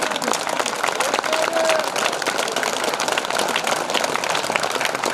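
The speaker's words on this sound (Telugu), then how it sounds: "గట్టిగా 100 గట్టిగా అందరూ గట్టిగా చప్పట్లు కొట్టండి ఒకసారి." A large crowd applauds loudly and continuously at an Ayyappa Swami padi puja gathering, dense steady clapping filling the whole stretch.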